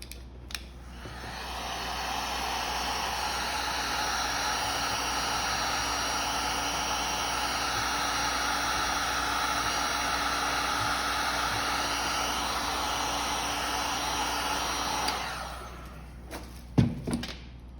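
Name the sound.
dryer drying the craft piece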